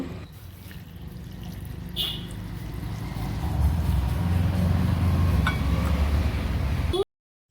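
Water pours and trickles while hibiscus leaves are ground, with light clinks and a steady low whir that grows louder midway, then stops abruptly; a voice is heard.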